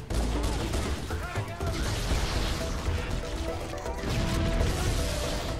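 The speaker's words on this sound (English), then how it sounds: "I don't think I threw more than one grenade, so... Am I on a chain reaction?" Loud, dense blasts and crackling bursts from grenade explosions in the video game Halo: Combat Evolved fill the whole stretch without pause, like a chain reaction of detonations.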